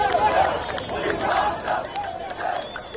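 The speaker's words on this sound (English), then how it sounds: "that is the sound of the streets of Cairo, where anti-government protests have been taking place in recent days" Crowd of anti-government protesters chanting in the streets of Cairo, a dense rhythmic roar of many voices rising and falling in repeated waves, heard from within the crowd.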